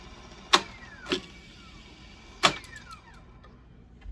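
A Roberts Akai 778X reel-to-reel tape deck is set to rewind: sharp mechanical clunks from the transport controls alternate with a faint gliding whir of the reels, close and fairly quiet.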